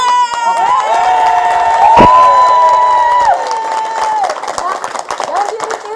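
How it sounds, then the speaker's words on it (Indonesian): A lively seminar crowd claps and cheers loudly, with high shouting voices and whoops over a steady bed of applause that breaks into scattered claps near the end. "Tepuk tangan sama urat leher aja yang keras ya"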